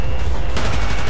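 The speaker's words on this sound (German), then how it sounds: "Aber die Stinger-Rakete zieht erstmal ordentlich hoch nach dem Abfeuern." A Stinger missile fires in Battlefield 4 with a loud, sharp blast that erupts into a dense, roaring burst of explosive noise filling the short moment.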